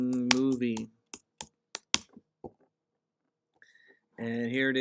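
Several sharp keystrokes on a computer keyboard as a Google search is typed, a handful of distinct clicks spaced irregularly between stretches of someone talking.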